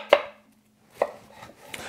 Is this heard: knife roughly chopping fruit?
yes